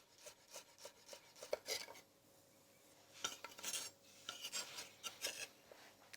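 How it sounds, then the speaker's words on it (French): Green garlic stems are finely chopped with a knife for a wok pad thai: quick, close, irregular chopping and scraping strokes in uneven bursts, with a short lull midway. "Je cisèle finement mes tiges d'ail vert."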